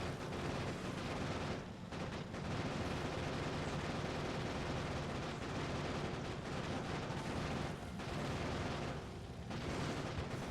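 Continuous gunfire in the video game Factorio Space Age, a steady dense barrage of shots with booming impacts, fairly faint and unbroken for most of the stretch.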